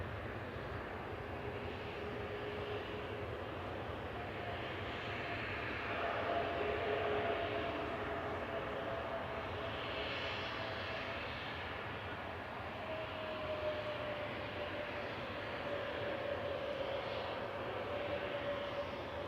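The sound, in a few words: Airbus A321neo jet landing, flight from Istanbul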